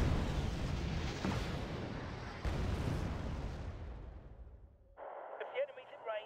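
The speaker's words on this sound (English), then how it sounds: "How quickly they fire their rockets" Rocket artillery firing in the Wargame: Red Dragon strategy game, set in a 1992 Second Korean War campaign: heavy roaring launches, with a second surge midway, fade into a long rumbling decay before a thinner, radio-like sound follows.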